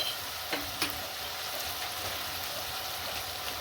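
Tomato fries in a pan as it softens, a continuous close sizzle and crackle with a couple of faint stirring clinks, with no talking over it.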